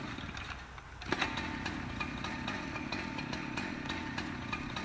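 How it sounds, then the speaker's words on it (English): A K12 rescue saw in a firefighting video game runs steadily as a continuous engine whine, with a sharp burst near the start as the cut begins, then holds a constant buzzing drone. "where's my chainsaw? Probably gonna need a K12 for this."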